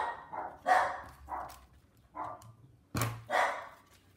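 Dogs bark indoors in a handful of sharp, close barks spread across a few seconds, with a louder burst near the end, while someone works on a jellyfish craft.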